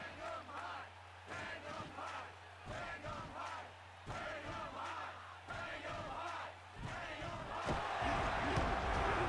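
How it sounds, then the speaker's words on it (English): A stadium crowd chants and roars in the football video game Blitz: The League 2, a steady rhythmic chant from a dense crowd that swells louder toward the end. "The crowd chanting for Tito Mas"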